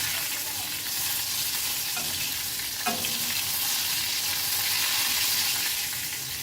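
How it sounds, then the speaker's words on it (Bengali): Hilsa fish pieces frying in hot oil, a loud, dense, continuous sizzle with a couple of faint knocks as the fish is turned over; no talking. "মাঝে মাঝেই মাছটাকে উল্টে পাল্টে দিচ্ছি আর বেশ ভালো করে ভেজে নিচ্ছি।"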